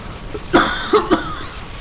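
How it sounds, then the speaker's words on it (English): Three harsh coughs close to the microphone during a Diablo 3 gameplay session, one strong burst followed by two quicker ones, with quiet room noise between them. "listen to me cough like a crazy guy."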